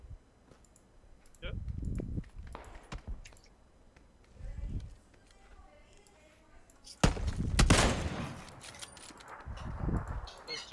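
Gunfire in the Miscreated survival game, with a burst of shots around the start, scattered bangs, and a louder, denser volley in the second half, mixed with clicks and background noise.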